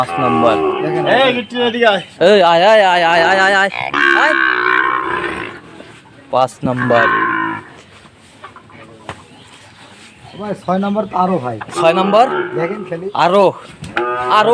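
Sahiwal bull calves moo loudly and close at several points at a cattle sale, mixed with people talking over them, with a quieter stretch in the middle.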